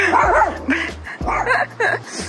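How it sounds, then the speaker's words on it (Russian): A dog in a Belgrade street gives a few short, sharp barks and yips in quick bursts, loud and close, with a low rumble of traffic beneath. "Ой, собака."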